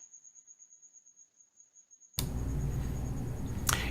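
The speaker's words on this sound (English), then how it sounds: "all that squeaking you hear in the back, those are Africa's crickets" Crickets squeak in a steady, high, pulsing trill that sits in the background, first nearly alone and then continuing faintly under a sudden louder noisy room ambience.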